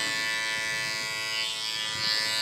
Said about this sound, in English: The power that this bevel trimmer has,